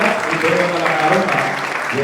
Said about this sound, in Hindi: जोरदार तालियों से इनका स्वागत इन दोनों कलाकारों का